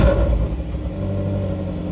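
A Ferrari California in sport mode idles with a smooth, low, steady engine rumble heard close by for a brief moment.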